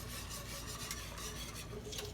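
A roux with hot milk is stirred steadily in a pot, a continuous close scraping and rubbing of the utensil against the pot bottom, with no talk.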